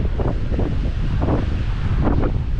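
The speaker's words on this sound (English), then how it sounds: "Looks like we got some waves today." Wind buffets the microphone on an Outer Banks beach on a choppy day, with surf washing in underneath as a loud, continuous roar with soft swells.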